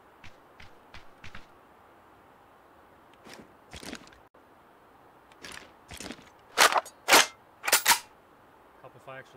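Sharp FAMAS rifle gunshots in a video game crack out in irregular bursts, faint at first and then louder near the end, with quiet ambient noise between them.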